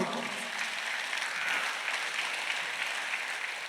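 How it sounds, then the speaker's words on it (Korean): Applause from a church congregation at a Sunday worship service, a dense steady patter of many hands that fills the room evenly and sounds a little distant. "박수를 하나 더해서"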